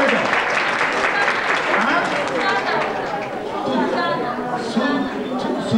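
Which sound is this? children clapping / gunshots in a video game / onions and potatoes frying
children clapping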